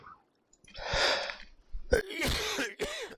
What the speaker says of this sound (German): Ist manchmal ganz schlimm mit dem Husten.